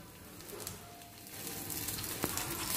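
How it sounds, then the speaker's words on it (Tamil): Chopped large onions sautéing in oil in a pan for a spicy chutney, giving a soft, steady sizzle and frying crackle with occasional faint stirring, fairly quiet and continuous with no talking. "இப்போ இதையும் நம்ம நல்லா வதக்கிக்கலாம்"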